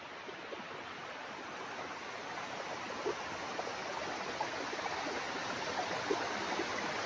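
Steady rushing water of a village waterfall in Mandangad, Maharashtra, a broad continuous wash that holds even throughout with no voices.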